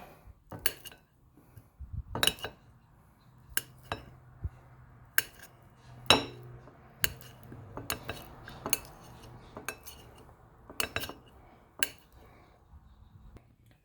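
A knife cuts softened butter into pieces inside a bowl. The clinks and taps of metal on the dish come close and sharp at irregular intervals, with quiet gaps in between and no talking.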